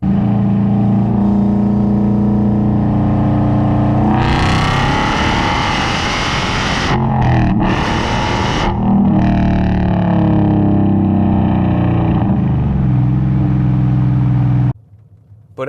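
A car exhaust fitted with Texas Speed long tube headers, with a raspy tone, drones steadily, then surges through loud rising revs mid-clip before settling back and cutting off abruptly near the end.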